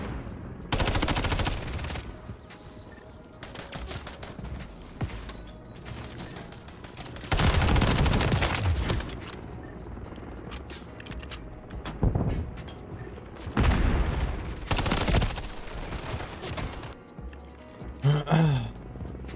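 Heavy shotgun blasts and bursts of gunfire in Call of Duty: MW3 multiplayer, several loud booming shots spread across the stretch with quieter game noise between them.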